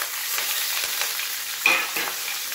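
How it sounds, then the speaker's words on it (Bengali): Onion, garlic and green chili fry in hot oil, giving a bright, steady sizzle close by with occasional louder pops and crackles. "এবার পেঁয়াজ, রসুন আর কাঁচা লঙ্কা তেলে ফ্রাই করে নেব।"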